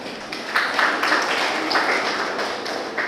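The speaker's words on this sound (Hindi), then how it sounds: "चलो गुड, जोरदार तालियां छवि के लिए एक बार" A school audience of students applauds a student, broad even clapping filling the room at steady loudness throughout, with a faint voice underneath.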